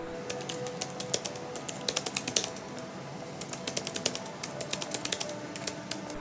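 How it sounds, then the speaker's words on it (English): Typing on a Logitech Signature Slim Solar+ K980 full-size keyboard with low-profile scissor switches: quiet, crisp key taps in uneven bursts, heard alone with no talk. "The keys are low profile scissor switches. It feels snappy and extremely quiet"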